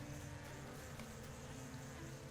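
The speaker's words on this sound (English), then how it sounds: "I'll just give these bees a while to get used to their new home" Bees buzzing around a new hive in the game LOTRO, a dense steady drone that holds evenly at moderate volume with no pauses.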